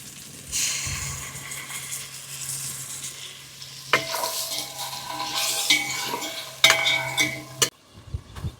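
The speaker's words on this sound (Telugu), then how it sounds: "టమాటాలు మెత్తబడ్డాయి, ఇప్పుడు పెరుగు వేస్తున్నా." Yogurt goes into softened tomatoes frying in a pan for prawn pulao, giving a soft sizzle with spoon stirring and scraping against the pot, intermittent clinks, fairly close.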